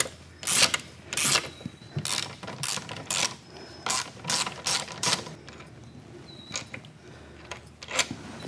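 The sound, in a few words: removing the nut on a Tiger Cub motorcycle fork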